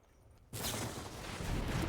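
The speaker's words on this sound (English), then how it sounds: "How about an ill-time explosion?" A sudden in-game explosion effect in Magic: The Gathering Arena bursts in after a quiet moment and holds as a loud, dense roar to the end.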